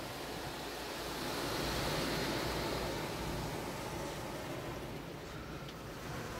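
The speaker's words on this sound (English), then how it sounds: "We got your tire shine." Tire shine spray at an automatic car wash, a broad, steady hissing wash of noise lasting throughout at a moderate distance, swelling slightly then easing.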